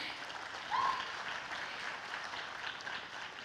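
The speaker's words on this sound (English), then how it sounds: "You can clap for her." Audience applause at a dance arangetram performance, a steady wash of clapping from a crowd that holds through the whole stretch without any voices over it.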